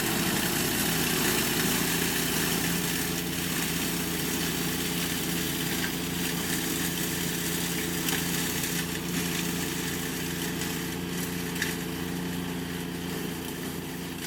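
A Woodland Mills TFG55 gas-powered wood chipper runs at a steady idle, its small engine droning with an even low pulsing throb and a faint mechanical rattle throughout, no voices.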